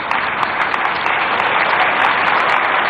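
Crowd applause fills the hall at a Delhi BJP government event marking 100 days, a dense, loud, steady clatter of many hands clapping throughout with no pause.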